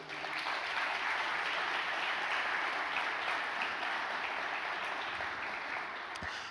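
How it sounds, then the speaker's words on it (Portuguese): Steady applause from a church congregation at a Baptist forum, heard at a moderate distance as a continuous wash of clapping that fades slightly toward the end. "Também glorifica a Deus também com as palmas"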